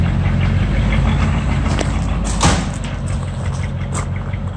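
A 1958 Cadillac Fleetwood engine idles with a loud, steady low rumble, broken by a few clunks and knocks near the middle.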